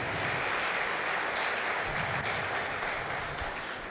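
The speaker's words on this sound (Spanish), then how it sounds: "Vamos a darle un aplauso más grande a ese que nos hace uno en Él." A Sunday school congregation claps in a full, steady wave of applause that fades slightly toward the end.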